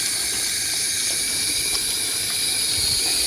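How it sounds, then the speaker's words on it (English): Water runs from a tap into a pot in a steady, continuous stream, a close, bright splashing hiss that holds level without a break and with no talking. "get a steady stream going on our water and let our water just kind of run in there"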